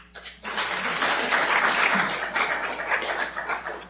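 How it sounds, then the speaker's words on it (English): An audience at a public forum on a draft strategic plan claps together in sustained, moderately loud applause that swells quickly and keeps going. "And now you may applaud them."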